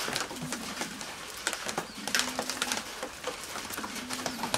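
A breeding pigeon from a racing-pigeon loft coos in repeated low rolling phrases, three or four clear coo bursts close by, mixed with light rustling and cage noises and no talk.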